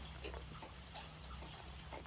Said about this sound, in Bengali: সকাল থেকে তো গুড়ি গুড়ি বৃষ্টি।